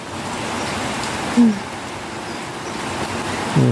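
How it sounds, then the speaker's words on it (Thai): Steady rain falling, a constant soft hiss with a couple of brief faint tones rising above it. "ฝนตก"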